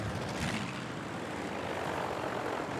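A propeller-driven warplane drones past in Battlefield V, a steady, rough engine roar holding at close range for several seconds without any voices.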